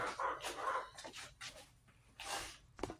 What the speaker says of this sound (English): Chickens are a little noisy today.